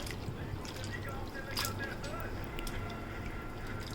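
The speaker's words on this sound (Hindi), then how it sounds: "अब इन करेलों को 2 से 3 मरतबा साफ़ पानी से वॉश कर लेंगे।" Bitter gourds being rinsed in a basin of clean water while cooking a karela gosht dish, giving a steady close wash of sloshing, dripping and splashing that runs through the whole stretch.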